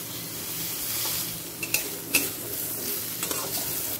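Starfruit chutney is stirred in a pan over a low, steady simmering hiss, with a few scraping strokes and light clinks of a utensil against the metal.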